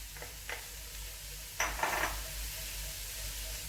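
A utensil stirs beans and sausages with barbecue spice and garlic in a pan, making a few soft, close scrapes and clinks over a low, steady background hum.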